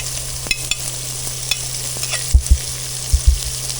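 Carrots going into a pan of sizzling chicken and papaya for Chinese mixed masala vegetables, a steady fry hiss broken by a few dull knocks and spatula clunks, close and without talk.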